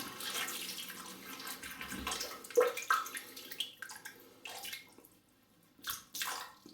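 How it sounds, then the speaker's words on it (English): Water splashing and trickling onto a shaving brush in short bursts, with brief pauses, close up, no talking. "We'll get the brush wet."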